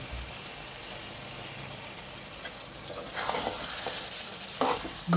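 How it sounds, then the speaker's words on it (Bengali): Washed beef lung goes into a pan of spice masala frying in oil and is stirred. A steady low sizzle runs throughout, with scraping stir noises building toward the end and a sharper clatter near the close. "মশলাটা কষানো হয়ে গেছে তেল উপরে চলে এসেছে আমি এখন ধুয়ে রাখা ব্যবসাগুলো দিয়ে দিচ্ছি"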